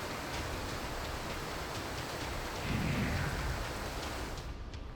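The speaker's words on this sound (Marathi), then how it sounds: "तर रात्रीपासून रत्नागिरी जिल्ह्यातही मुसळधार पाऊस पडतोय." Heavy monsoon downpour in Ratnagiri district on the Maharashtra coast, a steady dense roar of rain with a swell of low rumble partway through, loud and continuous with no voices.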